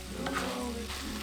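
Sliced onions and mashed potatoes sizzle in a tempering of hot oil, a steady broadband frying hiss with a brief stirring scrape, close and continuous for just over a second.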